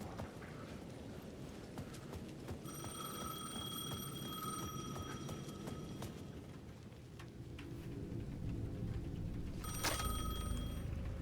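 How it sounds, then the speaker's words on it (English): A payphone rings in Alan Wake 2 with a bright, bell-like trill in two bursts, a long one early on and a shorter one near the end, over steady footsteps and dark game ambience. "The payphone at the edge of the plaza was ringing again."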